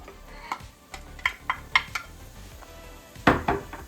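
Chopped onions and celery tipped into a pan for chicken and dumplings, giving a run of clattering utensil knocks and scrapes against the pan, then a louder burst of pan noise with a faint sizzle near the end.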